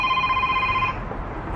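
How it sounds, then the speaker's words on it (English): A phone rings with a steady electronic tone for about a second, then stops, leaving faint background noise. "phone."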